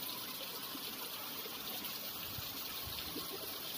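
Waterfall near a Shiv temple on Renuka Road in Sirmour, a steady broad rushing hiss of falling water, constant and unbroken with no talk over it.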